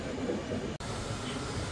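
The Panchavati Express from Nashik to Mumbai rolls slowly with a steady rumbling drone of rail noise heard from on board, broken by a momentary dropout partway through.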